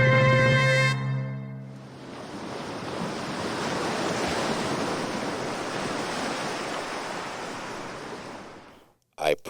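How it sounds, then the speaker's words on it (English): Ocean waves wash in continuously with broad, hissing surf and some wind rumble, rising and falling gently after a brief musical tone at the start. "music and waves."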